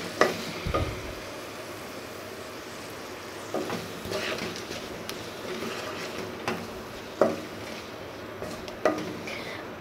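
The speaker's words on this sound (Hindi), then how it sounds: "अब हम इन सब को इसके अंदर डाल देते हैं और हम इसे अब अच्छे तरीके से भूनते हैं।" Nihari masala, cloves and cinnamon fry in a pot, a soft low sizzle broken by a few scattered clinks and scrapes as they are stirred.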